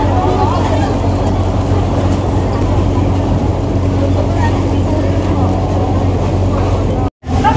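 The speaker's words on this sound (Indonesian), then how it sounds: "Ini kita sudah berada di dalam kapal." Rumbling drone heard from inside a moving boat in Hong Kong, a loud, steady low engine hum with water wash, continuous throughout before cutting off briefly near the end.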